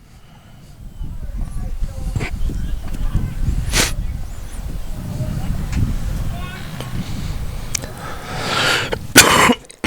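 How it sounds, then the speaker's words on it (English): A commentator on a live high school baseball broadcast between North Clay and Woodlawn coughs right into the microphone. Two loud, close, sharp bursts stand out over a murmuring ballpark background. "I coughed right in the microphone."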